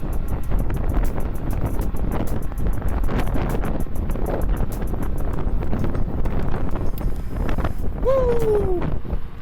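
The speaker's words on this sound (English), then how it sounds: "the wind is battering us" Strong wind roars and buffets the microphone continuously outdoors while riding an Ausom Leopard electric scooter, a loud steady rush with gusts, and a brief voice-like cry near the end.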